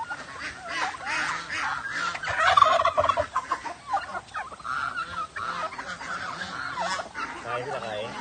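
Ducks clamor for food at a backyard feeding, a dense run of overlapping honking and gabbling calls that swells and fades over several seconds, with occasional faint human speech underneath.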